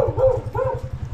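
A dog gives a short run of muffled yips and whimpering barks, close by, over a steady low rhythmic rumble of strong wind or a motor.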